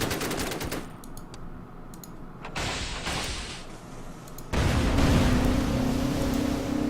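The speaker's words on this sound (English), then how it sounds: "But we can come up here and fire one time. And we can unload the torpedoes." Naval gunfire and torpedo launches in the WWII strategy game Order of Battle, set around Sevastopol, come as loud, rapid bursts of shots over a rumbling roar, growing heavier near the end.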